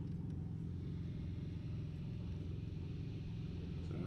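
Steady low road rumble from a car cruising through downtown Dallas, a continuous close engine and tire drone that holds an even level throughout with no voices.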